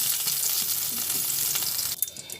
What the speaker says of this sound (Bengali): অল্প করে ভেজে নিচ্ছি